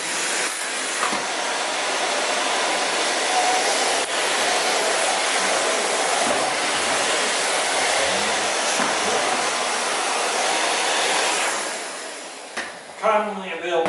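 A Miele vacuum cleaner runs with a steady, broad whooshing roar for most of the stretch, close and continuous, then cuts off near the end as a voice begins speaking.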